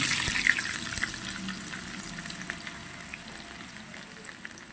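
Chopped shallots with mustard seeds fry in hot coconut oil, a steady crackling sizzle with scattered small pops, fairly close and without talk.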